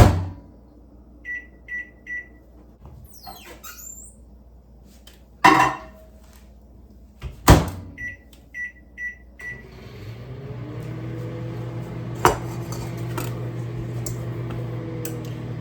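A microwave oven melting butter gives three quick electronic beeps, two sharp door clunks, another run of beeps, then a steady low hum as it runs, close and clear with no talking.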